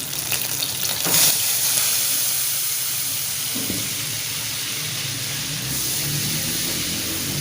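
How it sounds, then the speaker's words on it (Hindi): Flour sizzles steadily as it fries in melted butter in a pan over low heat, a close, continuous hiss and crackle with no voices. "अभी डाल देते हैं मैदे को हमने करना फ्राई अच्छी तरह।"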